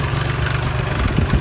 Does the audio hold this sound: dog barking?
no